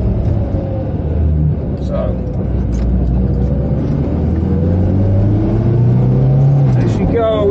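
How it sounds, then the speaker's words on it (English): A Ford Pinto engine fitted in a Mk3 Cortina runs warm at a steady idle with pinking, a continuous close rumble with faint rising revs near the end, while someone speaks briefly. "Now the engine's warmed up, that's when you get the pinking."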